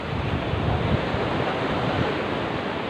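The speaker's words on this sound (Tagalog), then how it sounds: "Kasi tumataas na yung alon." Rising sea waves crash steadily against an island shore while strong wind roars across the microphone, a dense, continuous wash of surf noise with no talk.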